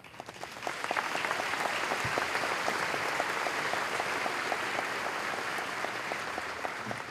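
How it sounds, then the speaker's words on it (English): Large commencement crowd applauding mentors and loved ones, a broad steady wash of clapping that swells in after a quiet start and holds evenly, heard from a distance. "I'd like to take a moment to applaud those in the audience and in our hearts today who made our dreams come true."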